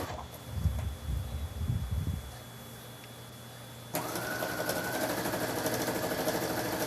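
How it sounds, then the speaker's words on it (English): A sewing machine stitches quilt pieces sewn right sides together. After a few seconds of low rumbling it starts up, giving a steady, close whirring motor hum that continues to the end. "So all I'm doing is right sides together and stitching it up."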